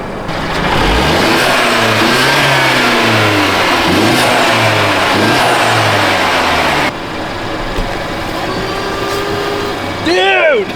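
A cammed Subaru BRZ / Toyota 86 engine revs loudly and repeatedly up close, rising and falling in a steady rhythm of throttle blips, then settles lower before a final sharp rev; people can be heard talking faintly in the background.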